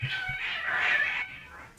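Cats meowing in a room, a drawn-out, wavering meow lasting over a second after a couple of short soft chirps, fairly close and quiet with no talk.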